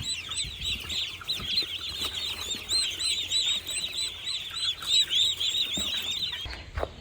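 Chickens in a village backyard flock cluck and chirp in a steady, busy chorus, close and moderately loud, with dense overlapping calls throughout.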